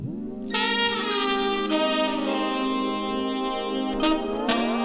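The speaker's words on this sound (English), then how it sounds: "this bell sound doubles this melody that is mainly played by the saxophone" A bright, sustained bell-like synth tone plays a melody in unison with a breathy saxophone line, notes held and gliding, with no voices.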